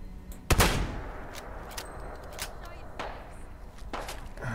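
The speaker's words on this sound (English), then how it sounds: "I was going to shoot these people anyway, because they shot at me first." Gunfire in the game Fallout London: a sharp, loud close shot early on, then several lighter scattered shots at irregular intervals over a low background.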